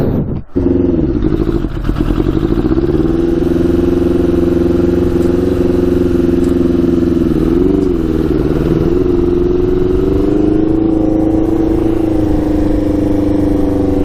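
Yamaha Banshee quad running without pod filters, its two-stroke engine blaring loudly and continuously, pitch sagging and climbing through several rev swells after a brief clatter at the start.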